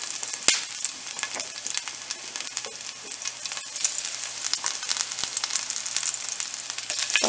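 Crushed garlic and green chili sizzle steadily in hot frying oil, a close, continuous crackle with occasional sharper pops and stirring, alone without talk.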